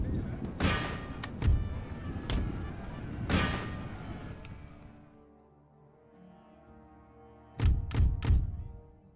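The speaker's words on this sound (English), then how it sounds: "Let's stop the howitzer from firing." Howitzer artillery fire in Empire: Total War booms as heavy, deep thuds. A few shots land early, then comes a quieter stretch, then a quick cluster of blasts near the end. Battle noise rumbles underneath.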